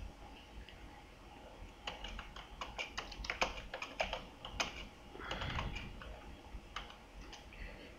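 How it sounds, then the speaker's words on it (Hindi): Keys clack on a computer keyboard as text is typed into an Excel spreadsheet, irregular bursts of close taps with short pauses, quiet room, no talk. "अब मैं यहाँ एक टेक्स्ट लिखता हूं।"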